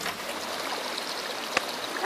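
Water pours and trickles steadily out of a bucket outdoors, a continuous close splashing flow with a brief knock near the end.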